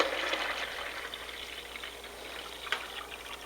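Hot water poured into a pot, a steady broad trickling splash running throughout, fairly close, gradually easing slightly with a brief louder splash near the end.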